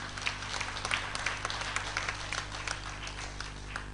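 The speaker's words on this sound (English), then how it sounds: "Give them a round of applause." Soft applause from an audience at a convent convention for the centenary of the Bethany Junior Sisters, a steady patter of claps sounding distant and faint over a low hum.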